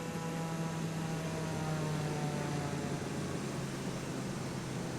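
Steady propeller airplane engine drone in a flight simulator during an approach to land on Mount Everest, a continuous loud hum with a low tonal whine that holds even throughout, no voices.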